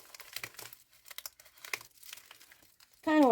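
Packaging material crinkles and crunches close by in short, irregular bursts while being cut down, ending with a louder, sharper rustle.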